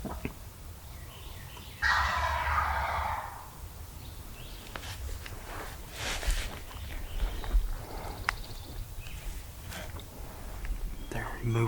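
A wild turkey hen calls out in a short burst of clucking yelps during spring turkey season in Alabama, then quieter outdoor rustling and faint movement follow, with soft murmured talk.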